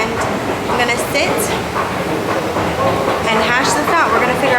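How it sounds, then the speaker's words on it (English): A New York City subway station with a train moving through, a loud, steady rumble and rattle marked by high metallic squeals from the wheels, with a voice talking faintly in the mix. "I'm in the subway station, traveling back with all my things"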